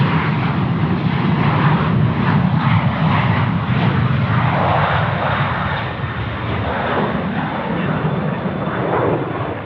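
A Qantas airliner flies at Sydney Airport, its engines a loud, continuous broadband roar that stays close and steady with no voices over it.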